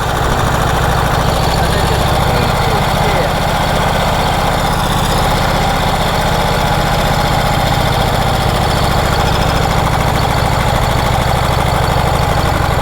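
A 108-year-old Harley-Davidson motorcycle engine runs steadily up close, with a loud, rough, continuous chugging throb that holds without a break throughout.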